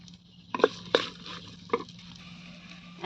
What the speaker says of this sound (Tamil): பாவக்காயை நல்லா வறுத்து எடுத்துக்கலாம் எண்ணெயில் வறுத்து எடுத்தா தான் கசப்பு இருக்காது